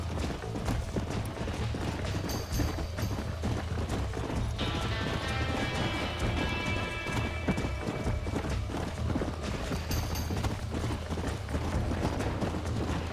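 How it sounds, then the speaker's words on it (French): Galloping hoofbeats of a stallion in Red Dead Redemption, a steady clip-clop over continuous game ambience, with a brief whinny-like tonal cry in the middle. "Hey, the stallion's getting away. Chase him down."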